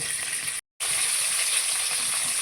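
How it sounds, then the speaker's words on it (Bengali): Bhetki fish pieces fry in mustard oil in a pan and give a loud, constant sizzle with bright hiss. The sound drops out briefly, then the steady frying continues. "সব কটা মাছই উল্টে দিয়েছি। এবার মাছের এই পিঠটা ভাজা হয়ে গেলে মাছগুলো তুলে নেবো।"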